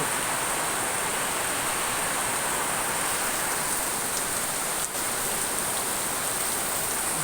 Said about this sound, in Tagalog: Basta ulan.